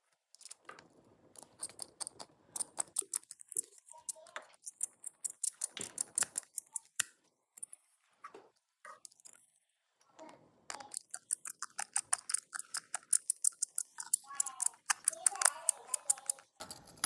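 Screws being driven into plastic parts during assembly of a Tektite-A unit, heard as close, rapid bursts of small ratcheting clicks separated by short pauses.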